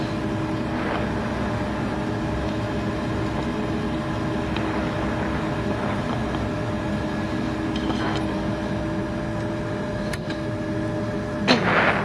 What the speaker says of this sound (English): Engine's good to go. All started up.